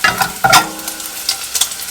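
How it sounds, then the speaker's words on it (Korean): Two strips of bacon sizzle and crackle in a pan over medium heat, with bursts of spattering and a few scraping stirs, close and fairly loud. "베이컨 기름을 충분히 빼주기 위해서 지금 이렇게 한 중불 정도로 볶아주고 있는 겁니다"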